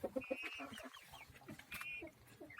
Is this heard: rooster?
yes